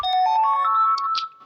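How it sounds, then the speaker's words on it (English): Phone alarm ringtone playing a short, bright electronic melody of stepped tones that rises and then cuts off, loud and close with no talk over it. "Oh, that's my alarm."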